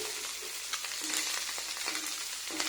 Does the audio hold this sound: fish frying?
yes